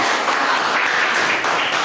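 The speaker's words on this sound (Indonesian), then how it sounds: "tepuk tangan kelompok" A classroom group breaks into brief, dense applause, many hands clapping at once for under two seconds, close and steady throughout.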